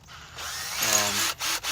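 A power drill whirs with a rising motor whine during work on a handle for the glove compartment of a 1966 Ford F100. It runs close and steady, broken by two brief stops near the end.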